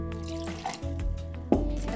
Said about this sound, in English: So pour some brandy right in here.